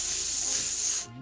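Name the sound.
voice imitating the hiss of a poison spray spell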